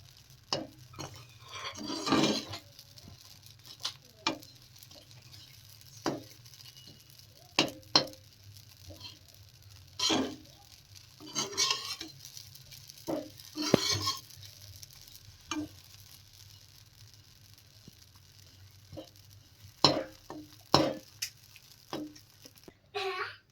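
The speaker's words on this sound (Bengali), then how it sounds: "ভালো করে নেড়ে চেড়ে ভেজে নিচ্ছি, পুড়ে পুড়ে যাতে না যায়" Bread crumbs being stirred and fried in a pan for crispy bread rolls, with a spatula scraping and tapping in scattered bursts over a steady soft sizzle.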